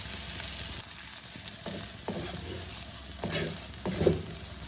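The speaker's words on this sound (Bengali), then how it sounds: "ভালো করে মিশিয়ে নেব।" Snack stuffing being stirred and mixed in a pan, giving a soft, steady sizzle with scraping and tapping strokes of a spatula, rising a little toward the end; no voices.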